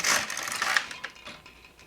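A knitting machine carriage is pushed back across the needle bed, knitting the stitches in one loud, close mechanical rasp that fades over about two seconds.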